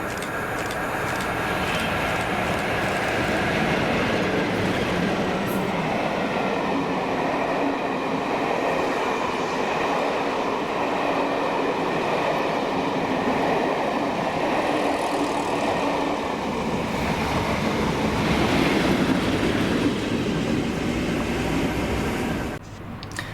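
A passenger train, BR Green Class 47 locomotive 47815 leading with Class 37 37516 on the rear, rumbles past steadily and loudly for the whole stretch, wheels clattering over the rails with no voices.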